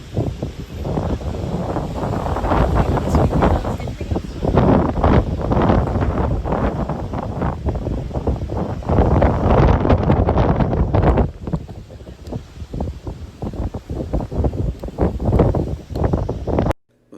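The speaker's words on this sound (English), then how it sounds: "We chose a windy day, and please, when it's windy like this, do not try to come on the beach" Strong wind on Camps Bay beach, Cape Town, roaring and buffeting the microphone in loud, continuous gusts, rising and easing slightly, with no voices heard.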